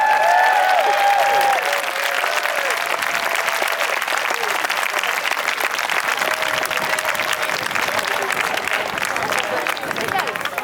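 Sustained applause fills a relay stage presentation as the crowd claps for the event manager, dense and steady throughout with some crowd noise mixed in.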